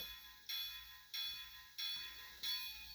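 A SoundTraxx Tsunami 2 decoder's locomotive bell in a Bachmann Spectrum 2-6-6-2 model rings in a steady repeating rhythm, each strike fading before the next, thin, tinny and slightly rattly through a quiet little speaker.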